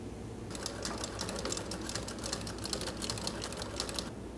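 A Consew 206RB walking-foot industrial sewing machine fitted with a servo motor starts after a brief pause and runs at a steady, fast, even stitching rhythm, close and clear.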